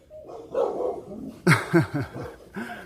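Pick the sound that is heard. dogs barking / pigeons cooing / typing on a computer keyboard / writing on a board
dogs barking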